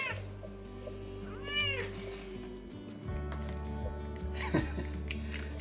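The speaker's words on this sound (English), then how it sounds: "A southern kitty. That's a southern kitty." A cat meows close by in a home kitchen, a few drawn-out rising and falling cries over a low steady hum and faint background sounds.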